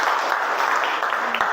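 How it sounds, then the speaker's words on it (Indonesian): Brief, steady applause from students in a classroom during a group-work lesson, a continuous wash of clapping hands with no break. "Oke, tepuk tangan untuk kita semuanya."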